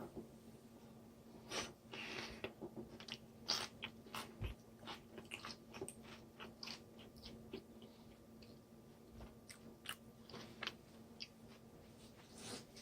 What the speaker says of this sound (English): Jalapeno crunch is amazing.